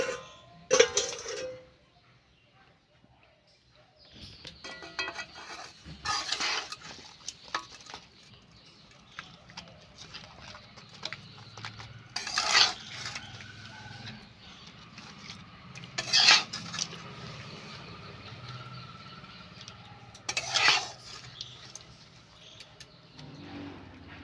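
A spoon clinks and scrapes against a metal pot while papad curry is mixed, scattered sharp knocks standing out over a quiet kitchen background, with faint voice in places.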